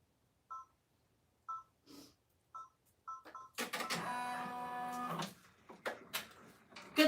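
An embroidery machine beeps a few times, then hums and whirs steadily while sewing a satin stitch on a bag tag, quiet and close before stopping with a few clicks.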